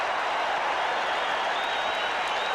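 Basketball arena crowd applauding Kermit Washington at a 1978 Boston Celtics versus Buffalo Braves game, a dense, steady wash of clapping and crowd noise, loud and continuous for a few seconds.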